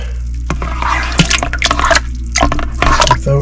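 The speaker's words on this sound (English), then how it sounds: "I'm going to rinse this off a little bit." Water splashes and drips over red crabapples being rinsed for wine or hard cider. There are irregular wet squishes and trickles close by, with a low hum underneath.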